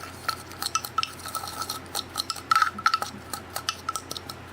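A spoon clinking against a bowl while mixing dry spices and a teaspoon of salt for a pumpkin dish, a quick irregular series of bright metallic taps and scrapes, close and fairly loud.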